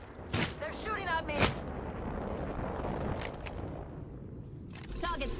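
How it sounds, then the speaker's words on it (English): A few sharp, separated shots in a firefight in the video game Apex Legends, spaced apart over a quiet, steady background with a final burst at the end. "They're shooting at me!"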